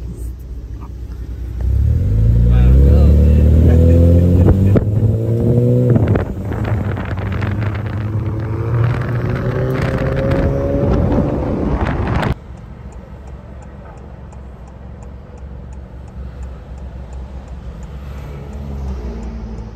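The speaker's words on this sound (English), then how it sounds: "Drag race of the year coming up. Honda Fit, R33 GTR." A Honda Fit and an R33 GTR drag race: heavy engine roar builds loud and close with rising revs, then drops to a distant rumble under wind buffeting on the microphone.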